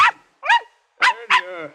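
A dog yelps and whimpers in an audio drama as it is lifted by the scruff of the neck at the back of a car, giving four short, close cries with the last one drawn out into a whine.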